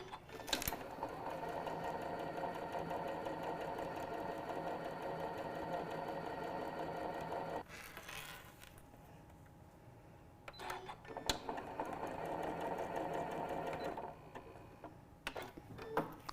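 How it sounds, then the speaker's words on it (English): A sewing machine top-stitches along the side of a fabric pouch, a steady rapid ticking whir that stops for a couple of seconds with a few clicks, then runs again before halting with small handling knocks. "top stitch down the other side too"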